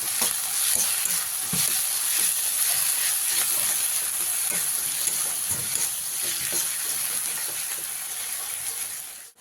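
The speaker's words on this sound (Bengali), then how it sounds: "দেড় থেকে দু মিনিট ভালো করে আদা রসুনটাকে ভেজে নেব" Ginger-garlic paste frying in a pan, a continuous bright sizzle and hiss with scattered stirring scrapes throughout, close and steady, with no talking.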